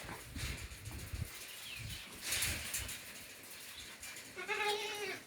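Meat goats in a clean, airy barn with simple natural-material pens give a couple of brief bleats amid low shuffling and background noise, with a clearer call near the end.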